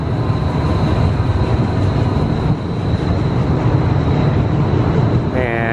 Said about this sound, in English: I hear the train way off in the distance